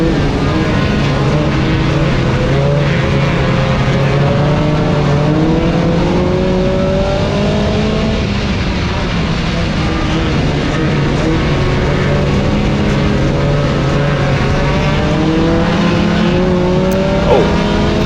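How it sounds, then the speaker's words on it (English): A dirt track hot rod race car engine drones loud and steady throughout, its pitch rising and falling with passing revs alongside other cars on the track. "I'll let you listen to the car."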